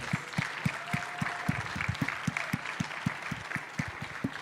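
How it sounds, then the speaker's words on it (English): Conference crowd applauding hackathon winners at a blockchain event, lively steady clapping over a regular pulsing low thump of background music. "please, a big round of applause for all the winners"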